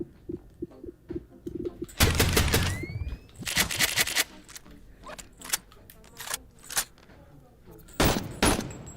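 Rapid bursts of AKM rifle fire in the VR game BONELAB, loud close shots in clusters with gaps between, plus a few scattered single reports.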